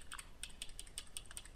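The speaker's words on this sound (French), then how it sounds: "je vais prendre les flèches sur le clavier, la flèche qui part à droite" Arrow keys pressed over and over on a computer keyboard while Alt is held down, a quick, even run of light clicks, close and fairly quiet.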